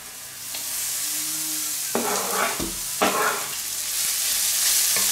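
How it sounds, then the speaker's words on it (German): Chopped onions and grated carrots sizzle in a pot for a one-pot lunch, a steady loud frying hiss broken by a few scraping stirs of a utensil against the pot, with no talking. "Werden wir auch jetzt die Möhren auch kurz anbraten, dass sie weich werden, so zusammenfallen."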